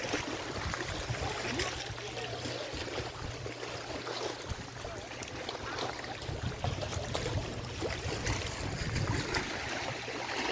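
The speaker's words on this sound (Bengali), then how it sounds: "এত মিষ্টি জলের আওয়াজ" Steady water washing and churning around a boat on a ride at Maithon dam, with a continuous broadband rush and a low rumble underneath, constant throughout and fairly close.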